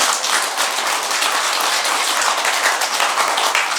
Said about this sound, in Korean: 이거 박수 받을 법문은 아니야.